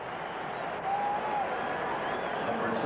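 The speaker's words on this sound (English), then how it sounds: "now the crowd is back in it as well" Crowd at a loud football stadium during a 1991 Giants at Cowboys game, a broad sustained roar of cheering that swells slightly, with a commentator talking over it.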